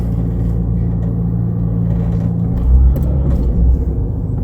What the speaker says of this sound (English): Okay, wheels spinning here,